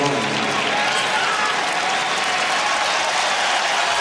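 Tennis crowd at the 2005 US Open applauding and cheering for Fabrice Santoro in his match against Roger Federer, a dense, steady wash of clapping that fills the stands and holds at full volume for the whole stretch.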